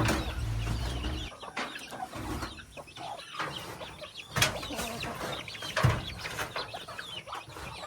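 Chickens and ducks cluck and murmur in a busy farmyard in Dumaguete, several birds near and far, with occasional louder squawks and rustling over steady background noise.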